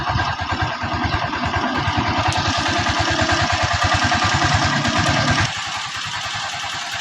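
A motorcycle engine fitted with a new starter motor cranks and catches, then settles into a rapid, steady idle putter that drops a little in loudness near the end, heard close with no talking.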